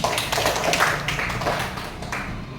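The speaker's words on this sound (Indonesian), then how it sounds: "tepuk tangan untuk kita semua" A short burst of hand clapping in a classroom, several people tapping together in a quick, fairly close patter that tapers off after a couple of seconds.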